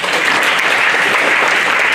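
A congregation claps steadily in praise at a Friday worship service in Dubai, a loud, dense, continuous wash of applause with no talking over it.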